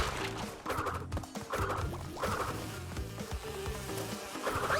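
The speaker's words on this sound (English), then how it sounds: "Fucking bees!" Bees swarm in the Crash Bandicoot N. Sane Trilogy video game on PS4, a loud, close, continuous buzzing that swells and pulses every second or so over busy game noise.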